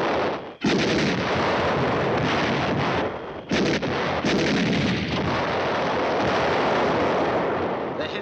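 Gunfire and artillery fire in a 1951 Korean-era war film about tanks, a dense, loud continuous barrage of blasts and rapid shots with brief gaps, dominating the scene.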